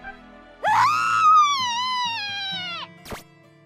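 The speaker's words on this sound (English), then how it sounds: "She let out a screech like some kind of animal in pain" A woman lets out a long, high wailing screech like an animal in pain, rising sharply then slowly falling and trailing off, followed by a brief sharp knock.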